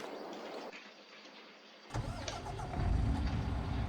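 Tractor with a sprayer in Farming Simulator 22, a faint hum that cuts out, then an engine start followed by a rising, louder rumbling drive.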